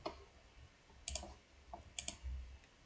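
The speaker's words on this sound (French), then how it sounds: "je clique là-dessus" A computer mouse clicks a few times, sharp and close, in a quiet room: double clicks arrive in small pairs over a faint background hiss.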